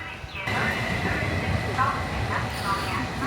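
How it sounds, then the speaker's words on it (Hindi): A train pulls into a station platform on a trip across Finland, a loud rumbling roar swelling in close with faint squealing overtones, while a voice talks over it. "ये जी ट्रेन आ गई है।"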